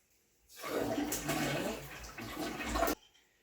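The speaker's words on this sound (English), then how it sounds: "So once the water's off, flush the toilet." A toilet flushes after its water supply has been shut off, making about two and a half seconds of rushing, gurgling water that stops abruptly. Nobody speaks over it.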